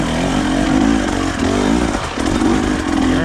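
KTM 300 EXC TBI two-stroke dirt bike ridden hard over off-road terrain, its raspy engine buzzing loud and close throughout with wavering revs and brief dips as the throttle is worked.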